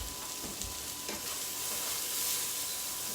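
Onions sweat in a hot pan with a pinch of salt, giving a steady, close sizzle, with a few soft scrapes early on from a wooden spatula stirring them.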